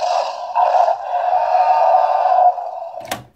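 A Mattel Jurassic World Dominion T-Rex toy figure plays a loud, clear electronic roar lasting about two and a half seconds, swelling briefly near the start and holding steady before cutting off, followed by a sharp click.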